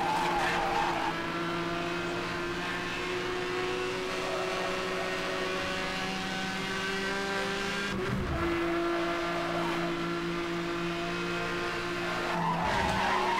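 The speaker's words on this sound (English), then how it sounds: "See, this car kicks out so much when it drifts." A car in Need for Speed Hot Pursuit Remastered drifts and skids with long, sustained tire squeals over a droning engine, with a brief break and a shifting pitch midway through.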